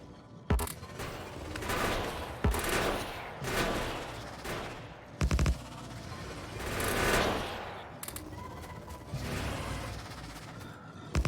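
Automated gun turrets in Factorio firing in repeated bursts, a steady rattling barrage with sharp cracks spaced through the clip at moderate loudness, no talking over it.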